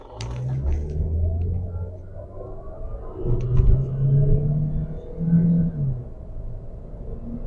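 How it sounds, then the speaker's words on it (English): A Suzuki SX4 1.6L hatchback with an automatic transmission pulls away from a complete stop, its engine rumbling up in loud, close surges as it gathers speed from inside the cabin. "Now let's see how it takes off from this complete stop here."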